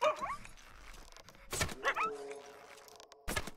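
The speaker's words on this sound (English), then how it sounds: "Sounds like a puppy too." A wolf in the video game Cardlife gives puppy-like whimpers and yips, several short high cries in bursts, with a voice talking over them.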